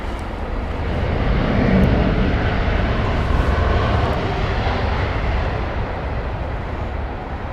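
An Airbus A320 airliner at Heathrow Airport, a loud broad engine roar that swells and holds steady before easing slightly, with no talk.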